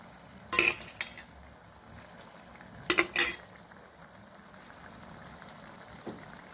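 Eggs go into a pot of village-style egg curry and a lid is set on, giving sharp metallic clinks in two quick clusters, then a faint tap later over a low, quiet simmer.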